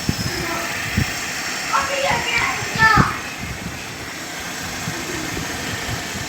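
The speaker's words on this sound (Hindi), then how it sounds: "अब गाड़ी स्टार्ट कर लिया हमने।" A car engine idles steadily after being started, a low continuous hum under a voice and children's chatter, with a few louder thumps and voices around the middle.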